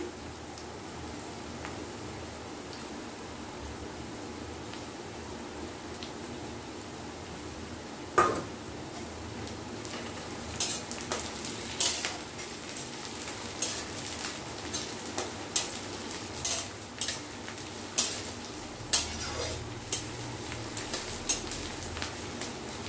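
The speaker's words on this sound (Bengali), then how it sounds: "এবার রসুনটা দিয়ে দিচ্ছি।" Garlic tossed into a frying pan of vegetarian taro greens: a steady low sizzle with scattered sharp clinks of a utensil against the pan, growing more frequent toward the end, no talking.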